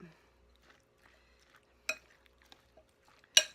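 Vegan Tofurky chick'n macaroni salad ingredients being stirred in a bowl, with a few soft scrapes and two sharper clinks of a utensil against the dish, otherwise quiet.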